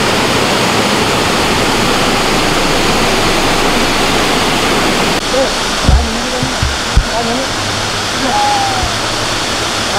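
Tanah Merah waterfall in Samarinda roars as a loud, steady wash of falling water, joined partway through by faint voices and a few small knocks nearby.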